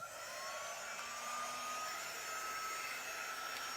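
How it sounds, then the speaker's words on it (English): Craft heat tool blowing hot air to dry paste before chalking; a steady, close airy whoosh with a faint whine that holds constant throughout, no talking. "I'm going to go ahead and hit it with my heat tool real quick just to dry it"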